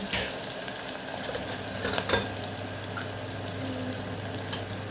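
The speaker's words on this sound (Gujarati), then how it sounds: "સરસ મિક્સ કરી લઈએ." Spices and garlic chutney are stirred and mixed in a hot pan, with a continuous sizzle and scattered scraping and clinking of a spoon against the pan.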